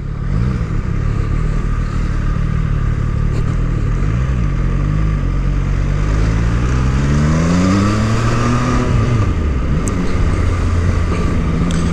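A new XRacing motorcycle's engine runs steadily close by and loud, with rising and falling rev sweeps as the bike rides along, under constant wind rush and no speech.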